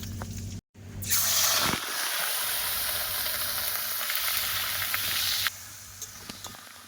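Sugar dropped into hot oil in a wok over a rural coal fire, bursting into a loud, sustained sizzling hiss after a short gap, then fading slightly toward the end with small clicks.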